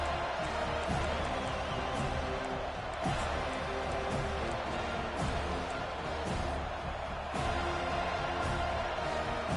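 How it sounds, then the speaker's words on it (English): Stadium crowd noise during a Clemson versus FSU college football game in the NCAA 25 video game: a steady, dense roar of many distant voices that holds throughout, with occasional louder swells. "This crowd bringing the energy and noise early."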